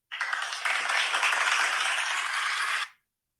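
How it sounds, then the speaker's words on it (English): Steady applause from a TV show audience, a dense wash of many hands clapping at even strength for about three seconds before cutting off abruptly into silence. "It's supposed to be applause."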